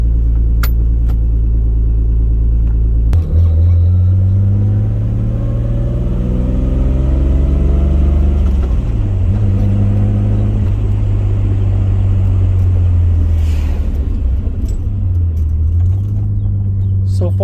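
Car fitted with a welded S13 differential and S14 rear axles on a test drive: steady engine rumble throughout, with a couple of rising and falling accelerations, and road noise up close.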